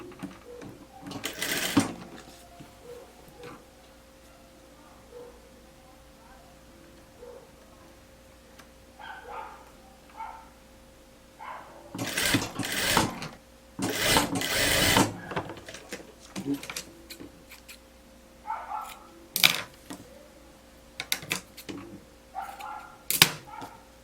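A sewing machine topstitches a blouse hem in several separate bursts of rapid mechanical stitching, some short and some running a few seconds, with quiet gaps and faint background sounds between them.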